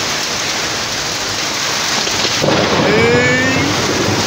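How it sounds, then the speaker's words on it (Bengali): Heavy rain pours down in a sudden Kalbaishakhi hailstorm with thunder, a dense, loud, unbroken roar throughout, with a brief muffled voice partway through. "এই দেখুন ওরে বৃষ্টির গতি, এই ভেসে গেল।"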